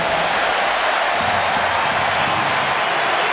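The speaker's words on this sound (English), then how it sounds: "the cheer you can hear is because Luis Suarez is coming out to warm up as well" A dense stadium crowd roars and cheers steadily as Luis Suarez comes out to warm up before a Barcelona versus Arsenal match at the Joan Gamper Trophy, a broad, continuous wash of noise with no clear breaks.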